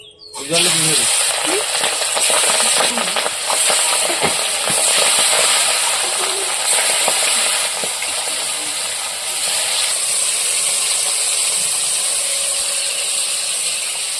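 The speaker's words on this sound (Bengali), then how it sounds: "আমাদের এখানে মাছ ভাজা হচ্ছে" Loud, steady sizzling of paus fish frying in hot oil: a constant crackling hiss that runs the whole time with a few faint clinks.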